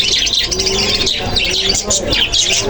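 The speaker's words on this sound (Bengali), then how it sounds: "এখানে দেখুন আরও এক জোড়া কবুতর রয়েছে।" Fancy pigeons, including Oman teddy and Sirazi pigeons, cooing in a pigeon shop at Khulna Borobajar, with repeated soft throaty coos and chirps close by against a busy, noisy room.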